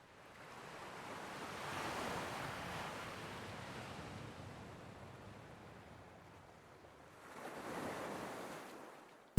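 Ocean waves and surf rolling in, two broad swells of wash building and receding over steady wind-blown roar, moderately loud with no voices.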